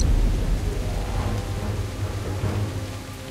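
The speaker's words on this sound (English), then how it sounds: "This storm is only gonna get worse." Heavy storm rain pours steadily in Jurassic Park: The Game, a dense, loud wash with low thunder rumbling underneath throughout.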